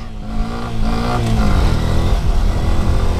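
A Honda Grom motorcycle ridden hard on an empty lot, its small engine droning loudly and rising in pitch as it revs and accelerates close by, with wind buffeting.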